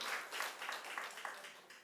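A church congregation claps briefly during a Sunday sermon, a soft, distant patter of many hands with no clear individual claps.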